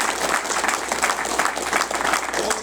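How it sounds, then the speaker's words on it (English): A church congregation applauds its pastor with steady, dense clapping that holds at an even level throughout, filling the space with no voices standing out. "Let's give our pastor a round of applause."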